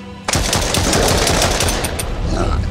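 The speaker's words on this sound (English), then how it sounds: "Does the pistol do anything? It's taking a little bit of damage off from the pistol." Pistol fire during an outdoor fight in the survival game Mist Survival: a loud burst of rapid gunshots that starts suddenly, continues as dense close shooting for over two seconds, then eases slightly near the end.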